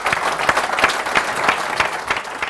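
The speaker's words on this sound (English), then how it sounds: "please, a round of applause for all four of the panel" An audience at a restaurant industry panel debate applauds the four panelists, a broad, steady wash of many hands clapping together at an even level with a few sharper claps standing out.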